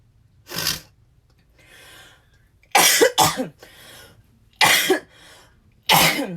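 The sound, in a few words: woman coughing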